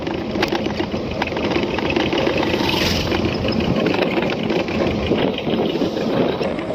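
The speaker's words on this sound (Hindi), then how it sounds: "ये सामने से बाइक आ रही है।" Small engine running steadily on a village road among paddy fields, a continuous close motor drone with a slight swell as the motorbike draws nearer, no speech over it.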